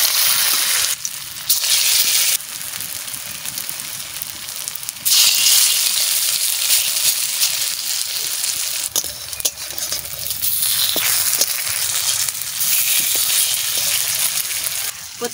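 Potato and bottle gourd peel chops deep-frying in hot oil, a loud, steady, dense sizzle close by that runs unbroken throughout, with no voices over it.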